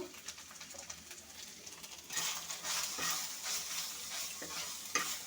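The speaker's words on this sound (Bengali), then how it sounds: "একটু কষিয়ে নেব মশলাটা।" Spice paste of salt, turmeric and ground coriander is stirred and fried in a pan for bottle gourd curry. Steady scraping strokes come over a soft sizzle that grows louder and denser partway through, with a few sharp clicks.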